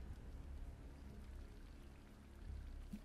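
Tsunami floodwater rushes in a steady, dense, pouring wash with a low rumble in GTA 5, a continuous close roar of flowing water with no talk over it.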